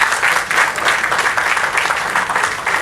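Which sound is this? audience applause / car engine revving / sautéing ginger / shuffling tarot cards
audience applause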